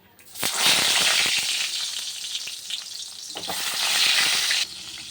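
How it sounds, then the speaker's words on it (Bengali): Hot oil erupts into a loud crackling sizzle as eggplant hits the pan, eases slightly, then surges again before settling. "তেলটা গরম হয়ে গেছে, বেগুনটা ভেজে নেব।"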